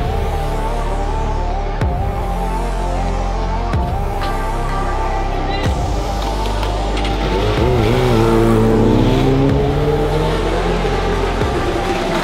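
A Suzuki endurance racing motorcycle pulls out of the pits during a 24-hour race, its engine revving through repeated gear changes, loud and close and then rising as it accelerates away, with other engine noise around it.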